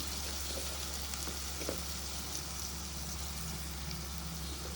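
Tomatoes frying in a pan with chilli powder just added, giving a steady, dense sizzle that holds evenly throughout with faint stirring scrapes and no talking.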